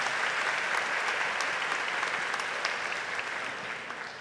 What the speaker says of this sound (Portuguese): Eu queria pedir um aplauso a toda a nossa juventude